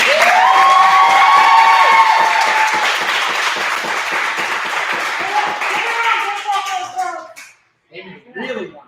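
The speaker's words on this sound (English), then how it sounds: "So one more big round of applause." Audience applause with clapping and some cheering at a martial arts belt presentation, loud and steady for several seconds before fading, with children's voices mixed in and a brief pause near the end.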